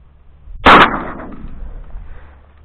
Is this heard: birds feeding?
no